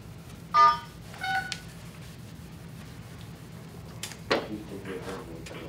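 A few short electronic telephone keypad beeps sound near the start, star and six, followed by quiet room rustling and faint handling noises.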